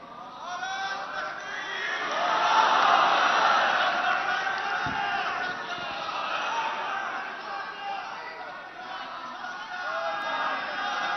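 Large crowd gathered at Badshahi Mosque in Lahore, a sustained roar of many voices with cheering and clapping, loud and continuous throughout, swelling slightly in the middle.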